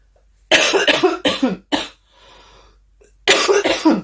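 A burst of harsh, repeated coughing fits from a person with a fever, with a brief pause before another round of loud coughs close to the listener.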